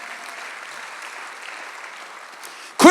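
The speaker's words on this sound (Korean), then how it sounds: "박수." A church congregation at a Sunday worship service claps, with a soft, steady patter of applause that swells sharply louder right at the end.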